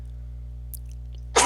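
A single sharp human sneeze bursts out near the end, close and loud, after a stretch of quiet room tone with a steady low hum.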